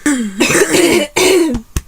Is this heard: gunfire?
no